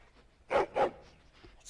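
Two loud dog barks in quick succession, heard alone from the Dragon Age Origins video game, followed by faint low background sound.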